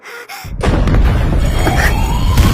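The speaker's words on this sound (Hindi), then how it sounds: "कोई बम फटा क्या?" A bomb blast goes off in the anime Fire Force, a sudden heavy boom that erupts after a brief quiet moment and rolls on as a loud, sustained rumble with crackling debris.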